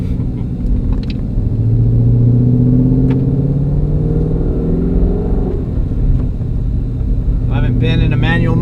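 The Corsa catback exhaust on a 2018-2019 Ford Mustang GT with a manual transmission gives a deep, steady V8 rumble heard from inside the cabin, rising and falling slightly with throttle, while people talk over it.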